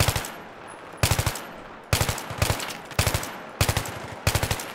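Machine gun fire in Battlefield 3 rattles out in six short, loud bursts of rapid shots, each separated by a brief pause, close and alone.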